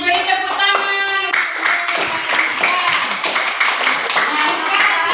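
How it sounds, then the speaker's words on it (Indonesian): Classroom applause during an Islamic studies lesson, several rounds of hand clapping, fairly loud and rhythmic, with a voice and other voices mixed in. "Beri tepuk tangan."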